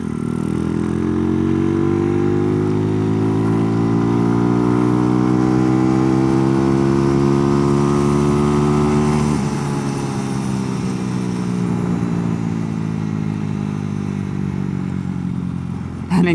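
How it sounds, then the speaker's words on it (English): SkyTeam 125 motorcycle engine revving high, a loud, close buzzing drone climbing steadily in pitch for several seconds, then easing off and falling back as revs drop. "I was expecting to fully hit the rev limiter right there, but this will happily go over 10k, I think."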